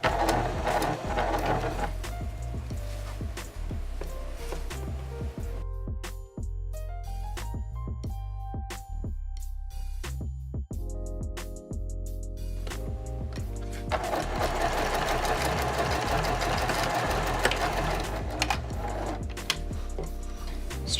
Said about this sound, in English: you'll want to sew a straight stitch right underneath the elastic